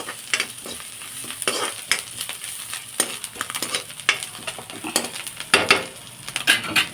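Vegetables and boiled eggs are stirred and fried in a pan with dried prawns. Sizzling continues throughout, broken by repeated scraping clatters of a spoon against the pan, close and fairly loud, with no talking.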